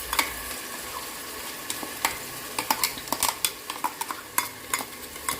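Ginger garlic chili paste frying with browned onions for a mushroom biryani, a steady close sizzle broken by a run of sharp scraping stirs and clinks of a spoon against the pan.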